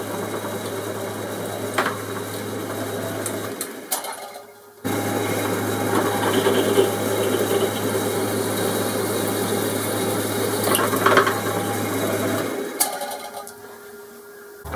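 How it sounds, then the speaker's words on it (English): Steady electric drill running on a thicker metal piece being drilled and tapped for a steel bolt, a continuous whirring motor hum that briefly cuts out and restarts, alone without talk. "So what I'm going to do is drill and tap this so we can put a steel bolt in."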